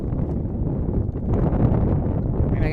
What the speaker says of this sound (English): this gust is brutal